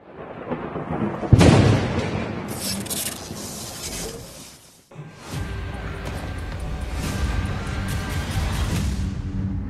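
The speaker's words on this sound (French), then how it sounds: "il y a des explosions." Heavy booming explosions and rumbling crashes roll through a dense, cinematic soundscape in the Greenland (2020) movie trailer, with a sharp loud hit early and sustained roaring afterward.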